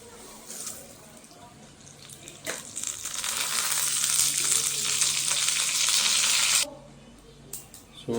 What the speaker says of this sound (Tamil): தாளிக்க போகிறோம் நம்ம